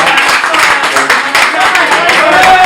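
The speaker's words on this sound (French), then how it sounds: "applaudissez Sorel qui représente Werason" Applause for Sorel, representing Werrason, at a press conference: a steady, dense wash of clapping from a room of people, loud and continuous throughout without pauses.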